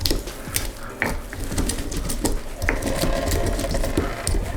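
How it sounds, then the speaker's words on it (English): Spices being ground in a mortar and pestle for chai, a steady run of close, gritty scraping and tapping strokes repeating without pause. "we're gonna put these in our mortar and pestle, and we're gonna grind these up"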